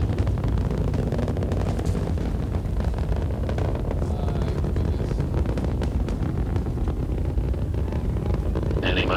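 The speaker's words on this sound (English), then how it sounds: "Engines throttling down now to maintain a certain speed as the spacecraft passes through max Q." Challenger space shuttle's three main engines rumble through launch, throttled down to 65% near max Q: a dense, continuous low roar with windy hiss and crackle, loud and unbroken throughout.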